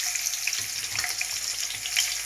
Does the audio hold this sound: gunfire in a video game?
no